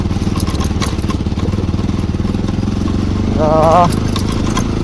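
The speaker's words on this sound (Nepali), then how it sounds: "मेरो बाइक हुन त स्टार्ट हुनु साह्रो पऱ्यो है।" A motorcycle engine runs with a steady, close, loud pulsing putter in cold weather after a hard start, while someone talks over it.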